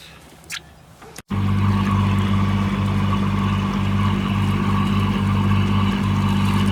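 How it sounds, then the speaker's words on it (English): A sailboat's engine starts after a brief quiet stretch, catches suddenly and then runs at a loud, steady, throbbing idle close by while anchored off Burrum Heads. "I'm going to pull the anchor up, start the engine, pull the anchor up and get underway."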